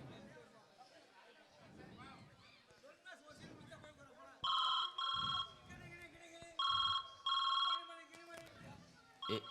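A telephone rings in four short electronic bursts, two pairs, while people keep talking over it at moderate volume.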